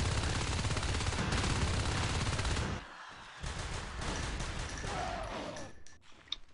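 Rapid gunfire from shotguns in a competitive strategy video game match, a dense, loud barrage of overlapping blasts for about three seconds, then scattered shots and battle noise that fade out.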